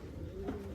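Andhra pigeons in a loft give a brief, soft coo, a single low murmur that is faint and unaccompanied by talk.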